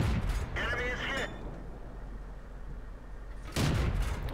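Tank cannon shots in the World of Tanks game: one sharp, loud blast at the start and another near the end, each with a booming rumble, with speech-like sound over the first blast and a quieter stretch between the two.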